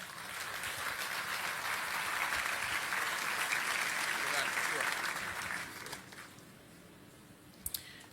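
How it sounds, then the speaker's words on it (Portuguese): A church congregation applauds to welcome a pastor to the pulpit with a broad, steady wash of clapping. It tapers off after several seconds into a quiet room with a few stray claps and clicks. "Pastor Ricardo Silva, vamos receber aqui com aplauso."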